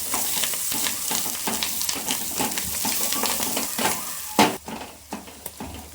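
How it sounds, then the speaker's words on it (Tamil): Vegetables for masala dosa sautéed and stirred in a hot pan, a steady close sizzle broken by scraping stirs and a few sharp spoon knocks toward the end, with no voices. "நல்லா வதக்கி விட்டுக்கோங்க"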